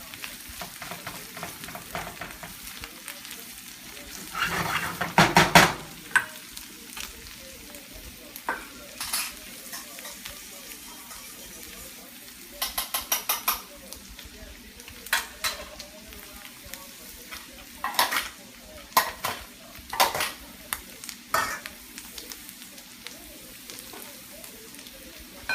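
Ground pork fries and sizzles in a pan, with a steady low crackle broken by repeated scraping stirs and occasional clatter of a utensil against the pan over about half a minute.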